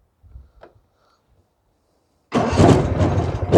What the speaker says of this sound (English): we'll give her a crank here and see what happens